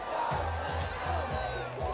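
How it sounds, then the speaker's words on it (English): A loud crowd of spectators at a high school football game yells and cheers from the stands, with sustained whooping voices in a continuous roar that rises and falls. "The loud crowd is still ecstatic over there."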